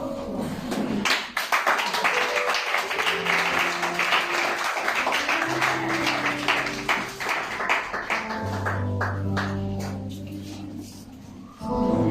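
A church congregation applauds to welcome a speaker at a Christian service: sustained, loud clapping across the whole stretch, with cheering voices and sung or held tones rising underneath, swelling and then tapering off near the end.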